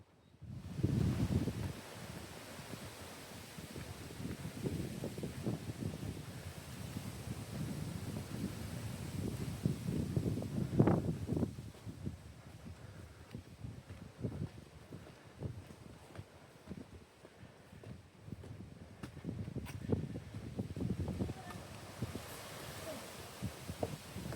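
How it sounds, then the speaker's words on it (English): Strong wind buffets the microphone in loud, uneven gusts at the top of a lookout in Sheringham Park, with a low rumbling roar that rises and falls throughout. "It's really windy up here"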